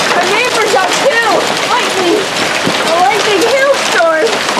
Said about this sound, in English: Lightning hailstorm.